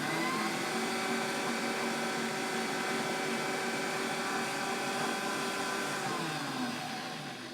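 An electric mixer beats a sugar mixture for shoofly pie whoopie pies, a steady, loud, continuous motor whir that holds even pitch and fades slightly at the end, with no voices.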